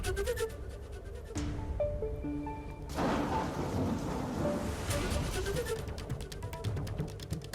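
Heavy monsoon rain falls over Andheri, Jogeshwari and Vile Parle in Mumbai, with deep rolling thunder and a dense, continuous wash of rain on surfaces, loud and close throughout.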